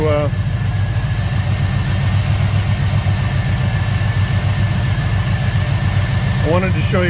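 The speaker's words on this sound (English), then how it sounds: "as you can hear, it is running. Have to do a little bit of fine tuning on the carburetor" A car engine idling steadily after a carburetor swap, a close, loud low rumble with constant vibration and a brief faint squeak near the end.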